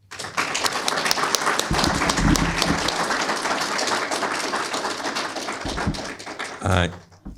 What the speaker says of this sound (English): give him a warm welcome applause as he takes the mic